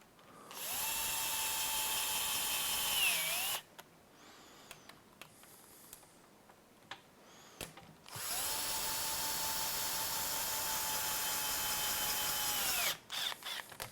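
A battery-powered wrench runs in two long, loud whirring bursts on an HPI Baja 5SC build, its pitch sagging at the end of each run, separated by quiet handling clicks.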